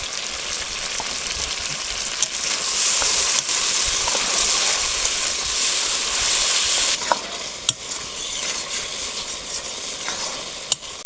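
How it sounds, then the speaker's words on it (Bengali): Spice paste of turmeric, cinnamon and black and green cardamom with a splash of water being stir-fried for duck curry: a loud hissing sizzle broken by sharp scraping clicks of the spoon, easing somewhat in the last few seconds. "সবকিছু দিয়ে নিয়েছি, সামান্য একটু জল দিয়ে মশলাটা কষে নেব।"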